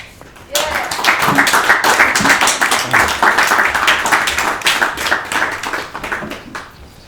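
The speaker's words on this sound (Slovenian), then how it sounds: "da pozdravimo z enim aplavzom Zorana" Audience applause greeting a speaker at a comic book talk, a burst of close, brisk hand clapping that begins suddenly, holds steady for several seconds and then tapers off.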